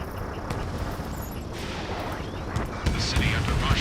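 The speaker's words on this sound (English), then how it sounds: "Gunfire and the roar of jets echoing through the streets." Rumbling gunfire and booming blasts with a jet roar in the Ace Combat 7 video game, a city under martial law; dense, continuous low thunder with sharper bursts toward the end.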